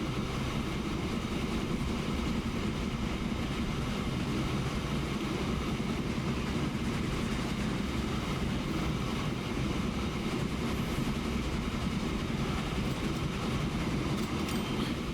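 Train running in the video game Transport Fever, a steady low rumble and rolling rail noise held at an even, quiet level throughout with no talk.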